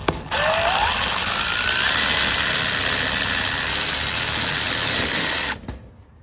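A power driver whines as it spins up and then runs steadily for about five seconds while driving self-tapping sheet metal screws into ductwork, then stops abruptly.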